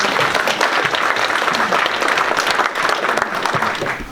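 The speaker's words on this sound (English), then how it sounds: "Well, first of all, I think we should all give Danae a hand of applause for" An audience claps loudly and continuously at a youth and older-voter forum, dense sustained applause filling the room without a break.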